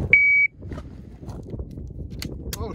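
An electronic shot timer gives one sharp, steady beep about a third of a second long to signal a pistol draw during malfunction drills, followed by quiet handling noises and a few faint clicks.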